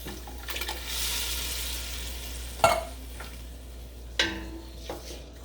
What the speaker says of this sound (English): And I'm going to pour over the diced tomatoes.